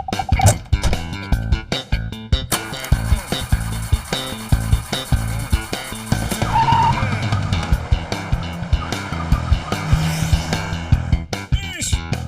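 A government jeep pulls away fast, engine revving and tyres skidding in a busy, loud burst, with music and a voice or two mixed over the rough road noise.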